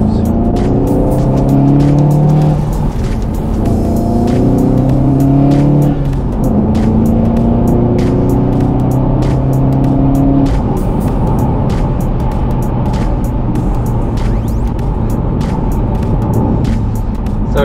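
A remapped VW Golf GTI Mk7.5 Performance, tuned to 315, pulls hard through the gears, with rising engine tones climbing and dropping at each shift, loud and steady from inside or close by.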